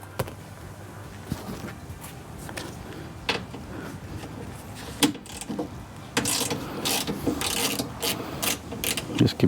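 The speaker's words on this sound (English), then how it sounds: "we're going to loosen these bolts up." A ratchet loosens bolts on a Honda S2000 door, clicking in repeated short runs up close, with occasional knocks and louder clatter near the end.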